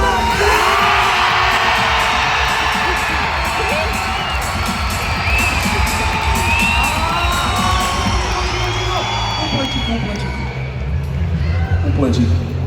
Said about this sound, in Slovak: Potrebujem, aby ste čo najviac kričali